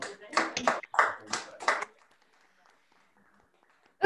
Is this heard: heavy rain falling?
no